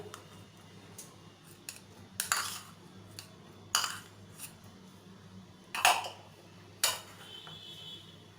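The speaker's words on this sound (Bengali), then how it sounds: "এবার ছোলা সিদ্ধর সাথে আমি মিক্স করে দেবো আলু সিদ্ধগুলোকে" Boiled potatoes and boiled chickpeas for a samosa chaat are mixed together in a bowl, with a few scattered scraping and clinking utensil strokes separated by quiet pauses, close up and fairly soft.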